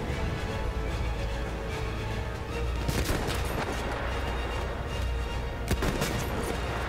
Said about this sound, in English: Oh man, artillery! Boom!